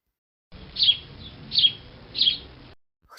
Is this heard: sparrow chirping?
yes